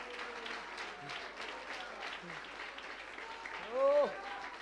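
An evangelical church congregation claps in a continuous, moderate patter while a voice talks over it, and a louder vocal swell rises briefly near the end.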